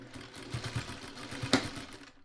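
A sewing machine stitches along the edge of a quilt carrier in a short, steady mechanical run with a quick sharp knock partway through, close-up and alone.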